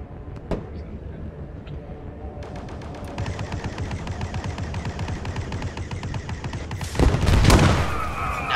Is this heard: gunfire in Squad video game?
yes